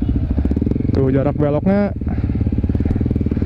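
A modified Yamaha WR155 supermoto with USD forks rumbles steadily and close-up at low speed, with a rider talking loudly over the engine.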